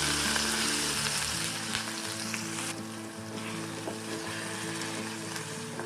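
Pieces of mutton (gosht) hit hot oil with crushed garlic and ginger for bhuna gosht, giving a loud, constant sizzle and crackle of frying close by, with faint stirring and no voices.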